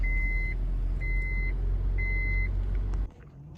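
Engine of a 1997-2001 Honda CR-V with an aftermarket push-to-start button running at idle, a steady low rumble under three evenly spaced electronic beeps about a second apart before the engine cuts off abruptly.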